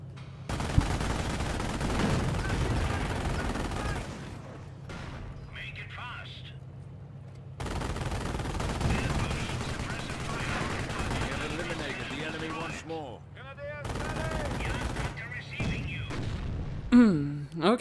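Rifle and machine-gun fire in the Company of Heroes Operation Market Garden campaign at Valkenswaard, with steady crackling bursts and booms filling most of the stretch and pausing briefly. Someone talks over the battle.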